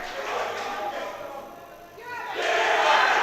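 Loud crowd cheering and shouting at a Swansea versus Cardiff varsity sports event, a steady roar that dips briefly and then swells louder again.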